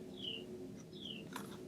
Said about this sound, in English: And of course I am hearing the birds outside.